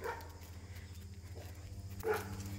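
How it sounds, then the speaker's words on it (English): Several dogs barking and yipping at a family home on a sunny day, short close barks and whimpers standing out over a steady low background hum. "here come all the other dogs"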